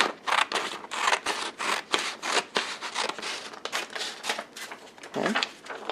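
Scissors cutting along a line through a paper planting template for square-foot gardening, a close series of rhythmic crisp snips and rustling paper strokes, with no speech.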